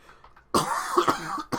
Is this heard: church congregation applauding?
no